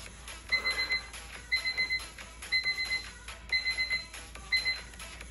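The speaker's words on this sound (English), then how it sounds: "And the alarm." Electronic workout interval timer alarm going off during a HIIT session, five evenly spaced bursts of high rapid beeping, moderately faint, with no voices over it.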